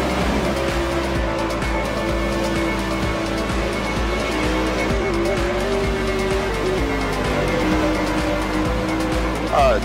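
Spike chassis race cars in a 2017/18 series race roar on a track in a steady, dense engine drone, with passing cars and some tire noise throughout. A commentator talks over it.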